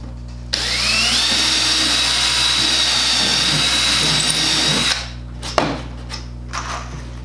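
A power drill drives screws into wood boards for a DIY snake cage, one sustained whining run of several seconds up close, then stopping with a few knocks and clatters of handling.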